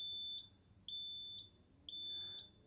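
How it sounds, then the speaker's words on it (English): A high electronic reverse warning beep from a mobility scooter sounds in repeated short pulses, roughly twice per second, loud and steady over a faint motor hum. "with the right hand we should go into reverse and hear the beep."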